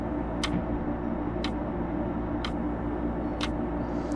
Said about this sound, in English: The only thing that makes noise is the ticking of my clock on the wall